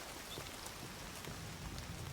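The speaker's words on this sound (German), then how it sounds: "Und es regnet." Steady rain in a jungle setting in the video game Indiana Jones and the Great Circle, a continuous, even hiss of falling drops with no talk over it.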